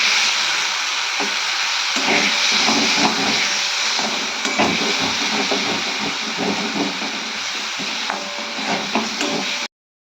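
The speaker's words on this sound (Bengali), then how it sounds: "এখানে মশলা দিয়ে দিয়েছি, আলুটার সাথে ভেজে নেব" Potatoes frying with spices in a home kitchen pan, a steady loud hiss and sizzle running continuously with scattered crackles and stirring clatter, no talking.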